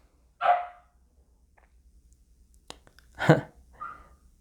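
A dog gives two short barks a few seconds apart, followed by a softer yelp, fairly quiet against a silent background.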